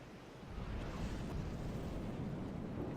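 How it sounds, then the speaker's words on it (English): Missile-torpedo hybrids launching in From the Depths: a low, rumbling roar that swells after a brief quieter start and holds steady, fairly faint and distant-sounding, with no talk. "It's firing its missile torpedo hybrids"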